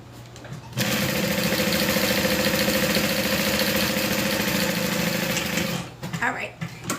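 A sewing machine runs steadily for about five seconds while stitching a sunflower clutch, its close mechanical whir starting abruptly and stopping just as suddenly, with brief handling noises before and after.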